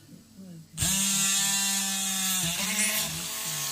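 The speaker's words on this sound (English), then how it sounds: "And that's how I'll continue drilling round and around, all around the dome." Electric drill boring holes around a dome during an AC-powered AM transmitter build: a sudden, loud, steady motor whine starts after a short pause and holds with slight pitch dips as it bites into the material.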